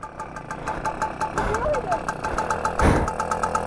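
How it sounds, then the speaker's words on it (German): An engine idles steadily nearby with a regular knocking rhythm throughout, while voices talk over it and a brief louder burst rises near the end. "So, Motorrad läuft. Ja, Motorrad läuft."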